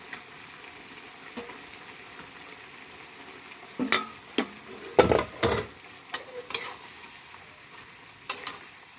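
Pork and squid stir-fried in a wok, with a soft sizzle under scattered scraping and clattering strokes as the food is tossed and stirred, loudest in a cluster mid-way.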